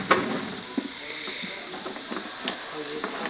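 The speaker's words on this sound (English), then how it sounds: "When you want to cook your bellas, you want to try and get a hot sear going again." Mini portabella mushrooms searing in a hot pan give off a steady close sizzle and hiss, with faint stirring scrapes and clicks, while people talk over the cooking.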